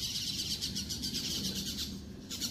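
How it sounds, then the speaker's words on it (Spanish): Many parakeets chatter and screech in a dense, continuous chorus of rapid high calls, fairly distant, over a low background hum, in a residential area in Lourdes, Colón. "solo oigan los pericos cómo se escuchan. Hay muchos pericos"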